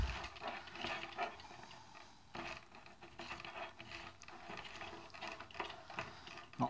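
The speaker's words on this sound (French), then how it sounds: "on va réouvrir la canne, malheureusement avec un ouvre-boîte" A manual can opener grinds its way around a tin of corned beef. It makes quiet, irregular ratcheting clicks and creaks in uneven bursts, heard close up and alone.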